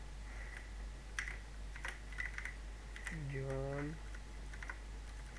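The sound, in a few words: typing on a computer keyboard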